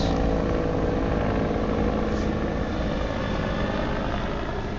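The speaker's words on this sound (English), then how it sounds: "If it's not a helicopter, it's a plane who flies over here" A helicopter drones steadily overhead, a constant rotor and engine roar that stays loud throughout.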